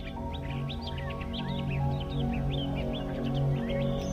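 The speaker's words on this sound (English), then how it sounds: "Sounds of the bird" Birds chirp and tweet in quick, scattered bursts out in nature, the light calls repeating steadily over a continuous low, humming background.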